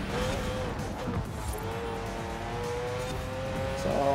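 A 2017 Aston Martin Vanquish Zagato driven in Forza Horizon 4, with engine drone shifting in pitch and some tyre noise as the car brakes and turns through the course, loud and steady without talk.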